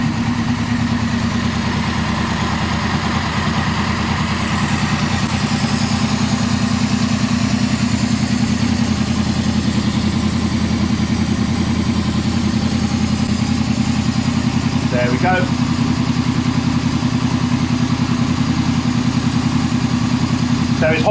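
Honda VFR800 VTEC motorcycle engine idling during a valve synchronization job, a steady, close mechanical hum with even clatter held for the whole stretch.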